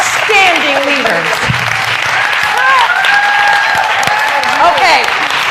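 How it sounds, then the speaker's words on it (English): An audience applauds women leaders at a panel event, loud sustained clapping with cheers and whoops rising over it and voices calling out within the crowd. "I just give a round of applause to these amazing, outstanding leaders"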